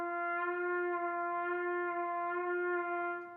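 A solo trumpet in a doctoral lecture recital holds one clear, sustained note with gentle, slow pitch wavering. It plays alone at moderate volume and fades slightly at the end.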